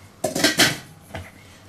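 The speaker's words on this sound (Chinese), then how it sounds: "咱给它盖上盖子" A lid set onto a pot of stewed crucian carp in a home kitchen, giving a few close clattering metal knocks and a rattle over about half a second, then a softer clink as it settles, with no talking.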